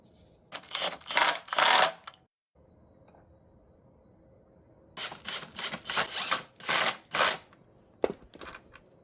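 A homemade, drill-driven stone sphere grinding machine, greased with petroleum jelly, spins up in several loud whirring bursts of a few seconds each, separated by quieter pauses and one near-silent gap.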